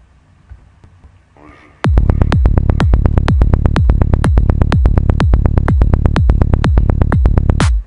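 Brief low murmur, then a loud, driving psytrance pattern of punchy kicks and rolling bass, without sidechain, pulsing at a fast, even tempo.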